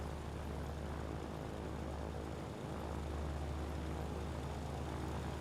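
Droning propeller engines of a heavy bomber such as a B-17 in Ground of Aces, a steady, dense, loud roar that holds evenly throughout with no talk.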